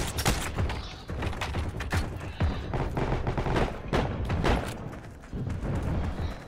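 Gunshots in the video game Heroes & Generals, a dense run of sharp, loud, close cracks in quick irregular succession throughout, with no clear talk.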